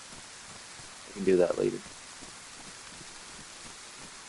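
Rain falls steadily in the survival video game DayZ, a soft, even hiss that runs throughout beneath a man's brief spoken remark.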